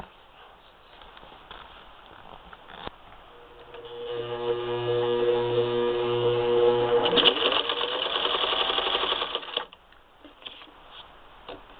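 A Singer 15-91 sewing machine fitted with an antique automatic zigzagger stitches leather, whirring up from quiet into a steady humming run for about six seconds, speeding up near the end, then stopping.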